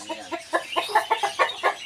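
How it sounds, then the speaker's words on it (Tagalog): Brahma chickens clucking close by in a dense, irregular chorus of short clucks and calls from a large flock, with no one talking. "Napakarami palang manok dito na Brahman."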